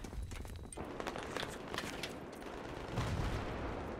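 Distant crackling gunfire in the Battlefield 3 video game on the Sharqi Peninsula map, a dense rattling wash of shots and battle noise that stays fairly faint throughout, with no clear voices.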